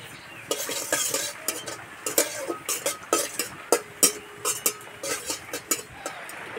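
Whole cumin seeds sizzle in hot mustard oil in a kadai, a steady fizzing hiss broken by a quick, irregular run of metal spatula scrapes and taps; no talking.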